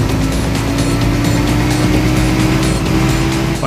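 A fast McLaren race car in the racing game World Racing, engine roaring steadily and loud throughout with a continuous whine, no speech.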